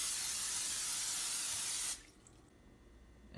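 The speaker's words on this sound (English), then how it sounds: "Now we're going to spray the pan with some Pam" Pam cooking spray hisses steadily onto a pan for about two seconds, a loud broadband spray, then cuts off abruptly, leaving faint room noise.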